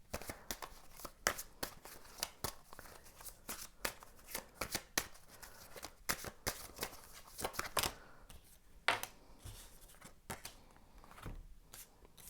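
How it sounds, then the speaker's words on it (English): Tarot cards being shuffled by hand, a close, crisp run of rapid riffling and slapping bursts repeating steadily without pause, with no talk over it. "I'm gonna shuffle some more cards for you"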